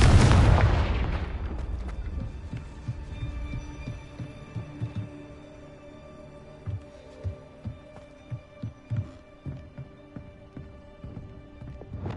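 A Confringo blasting spell in the Hogwarts Legacy video game opens with a loud booming blast that rumbles and fades. A series of sharper thuds and impacts follows at irregular intervals, with no speech.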